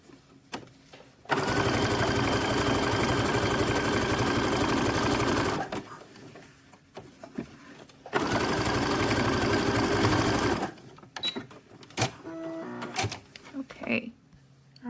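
Sewing machine stitching a boxer brief waistband, a steady fast mechanical whir running in two long close runs separated by a pause, then lighter clicks and handling noises at the end.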